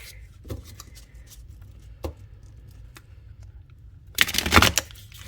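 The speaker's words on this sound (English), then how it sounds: "I'm going to shuffle real good, and then I'm going to take from the middle" Tarot cards shuffled briskly by hand close up, with a few soft taps and then a dense burst of riffling near the end.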